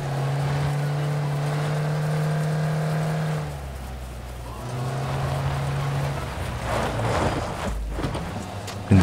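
An engine drones steadily while driving in PLAYERUNKNOWN'S BATTLEGROUNDS, with a shift in pitch midway, wind noise throughout, and a few bumps near the end.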